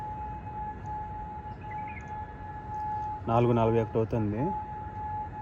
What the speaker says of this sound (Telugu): ఈరోజు 12 నుంచి స్టార్ట్ అయినాయి సైరన్స్ కోయట్లో.